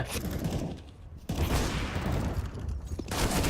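AK rifle gunfire in a competitive shooter match, with dense rapid shots filling most of the few seconds and a brief lull partway through.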